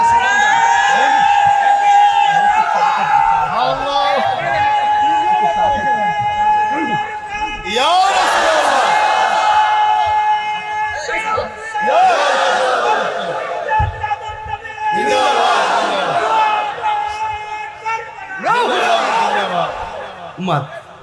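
Large congregation at an Islamic sermon on Ashura shouting a call-and-response slogan in loud bursts, several swells of massed voices rising over the preacher's amplified, echoing speech.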